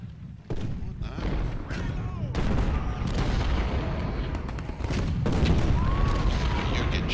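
Dense battlefield din of artillery booms and rolling musket gunfire from Ultimate General: Civil War at Malvern Hill, continuous and loud for the whole stretch with a brief dip near the start and a faint tonal whistle late on, a voice speaking underneath.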